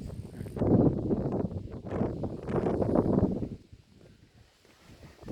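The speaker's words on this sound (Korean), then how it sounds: "바람이 엄청나게 세게 불고 있습니다" Strong gusty wind buffets the microphone at Huposhang harbour on Ganghwa Island, surging in rough waves of low roaring noise before briefly easing and then picking up again.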